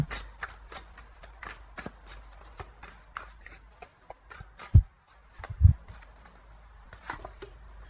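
Tarot cards are shuffled close by in quick, crisp riffling bursts, with two heavier soft thumps in the middle and faint background sounds between the bursts.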